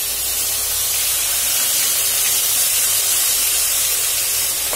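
Hot oil spatters in a kadai as prawn and parwal chops fry on low gas under a loosely set lid: a steady, dense hiss and sizzle runs unbroken, close and fairly loud, with no voices.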